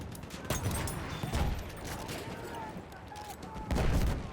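Rapid gunfire crackles in from all sides during a Battlefield 1 match on the Oil of Empires operation, with clusters of sharp reports and heavier bursts near the start, middle and end, mostly close and loud.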